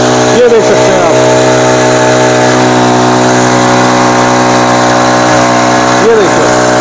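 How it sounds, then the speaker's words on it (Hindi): A Honda four-stroke power sprayer pump engine runs steadily up close, a loud continuous mechanical drone with a fixed pitch, while voices speak briefly over it near the start and again near the end. "कितना शानदार स्प्रे कर रही है, ये देख सकते हैं आप"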